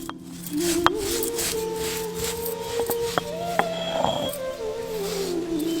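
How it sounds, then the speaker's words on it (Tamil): An electric kitchen grinder crushing roasted coriander seeds, a steady motor whine that climbs and settles, broken by a few sharp ticks and rattles of seeds inside the jar. "இப்ப நம்ம வறுத்து வச்சிருந்த வர கொத்தமல்லியை அரைக்க ஆரம்பிச்சிடலாம்"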